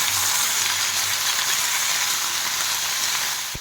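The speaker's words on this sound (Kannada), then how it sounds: "ಈ ಥರ ಸ್ವಲ್ಪ ಫ್ರೈ ಆಗಬೇಕು." A tempering for ivy gourd (tondekayi) palya fries in a pan with asafoetida added, giving a steady, close, continuous sizzle with no talking.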